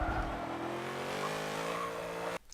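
A race car engine pulls hard in third gear on a hot lap and is run out toward the rev limiter. The loud, sustained, rising engine drone holds for about two seconds, then cuts off abruptly.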